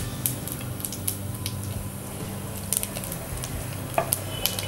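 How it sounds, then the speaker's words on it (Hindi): Cumin seeds crackle and pop in hot oil in a pan, a steady low sizzle broken by small sharp spits and ticks scattered through, close up, with no voices. "जीरे को अच्छे से फटने देंगे।"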